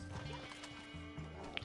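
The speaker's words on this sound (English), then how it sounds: "That's a big ass horse." A horse whinnies briefly in Red Dead Redemption 2, heard over steady game background and a low hum, with hoof-like clops faintly in the mix.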